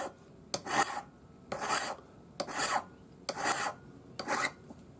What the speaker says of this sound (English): Don't let your file curve as you're filing. Make sure it stays flat.